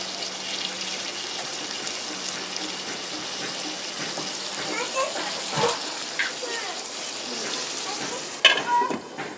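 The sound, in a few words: water added to sizzling fish and bottle gourd curry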